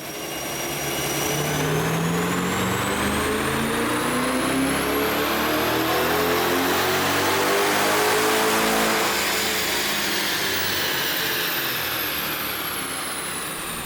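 A C8 Corvette Stingray with a Stage 2 ProCharger supercharger runs up on a dyno. A loud engine roar climbs steadily in pitch through the gears alongside a rising supercharger whine, peaks, then eases off.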